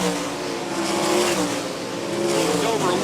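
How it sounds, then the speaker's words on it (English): Sprint cars race around Park Jefferson Speedway, a loud sustained engine roar that swells and fades as cars pass, filling the whole clip with no break. "Jack Dover very fast around the Park Jefferson Speedway"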